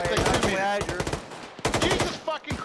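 Rapid automatic gunfire in a military shooter game, sharp bursts of shots packed closely together and heard loud and near, with a voice talking over parts of it.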